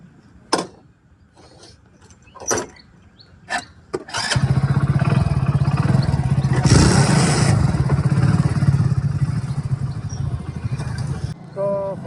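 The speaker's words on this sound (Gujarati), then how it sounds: "બાઇક ચાલુ કરું." A motorcycle engine is kicked or cranked a few times with short bursts, then catches and settles into a loud, steady close-up idle that runs for several seconds before dropping off, with brief voices around it.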